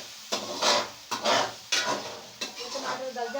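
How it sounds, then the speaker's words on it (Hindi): Tomatoes added to a hot pan sizzle while a utensil stirs and scrapes in four or five close, rhythmic strokes against the pan. "ये मैं देखिए इसके अंदर टमाटर डाल रही हूँ, ठीक है? ताकि ये भी साथ साथ चल जाए टमाटर।"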